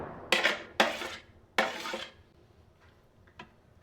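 Boiled potato is mixed into grated beet in a bowl, with several sharp clanks and scrapes of a utensil against the dish followed by softer stirring and a few light taps, heard close up.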